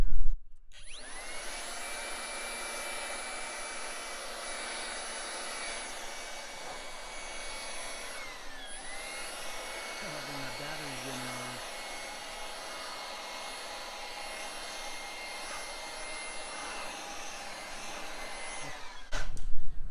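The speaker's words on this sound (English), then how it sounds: "we're going to dry it. We're going to blow it dry." An air blower drying a Hyundai car after a wash, with a ceramic spray coating just applied, gives a steady loud whooshing roar that holds for the whole stretch, with a brief dip in pitch partway through.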